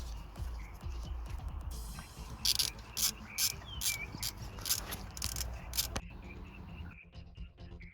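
A ratchet turns a rounded-off small bolt during timing belt work on a 2004 Honda Civic 1.7 CDTi diesel, giving several close, crisp bursts of rapid clicking with quiet pauses between them.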